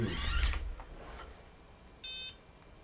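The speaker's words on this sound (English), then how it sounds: "It makes beep noise." A Makeblock mBot tracked robot gives a single short, clear electronic beep near the end, after a brief whirring from its drive.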